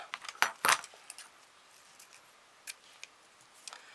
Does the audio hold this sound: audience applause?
no